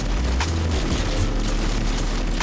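Deep explosion booms rumble through a Roblox Tower Defense Simulator match in molten mode, with a heavy low thud early on over a dense, continuous wash of game noise.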